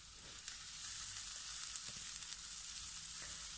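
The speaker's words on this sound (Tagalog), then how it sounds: "naglagay po ako dito ng about 2 tablespoon of cooking oil, and then gigisahin po muna natin ang ating sibuyas ng 30 seconds" Chopped onion sizzles in about two tablespoons of hot cooking oil in a pan, a steady, close frying hiss with light stirring.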